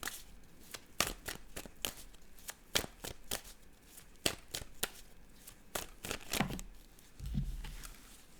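Tarot cards are shuffled by hand in a quiet room, a run of sharp irregular riffling snaps and slaps close up, ending with a softer dull thud.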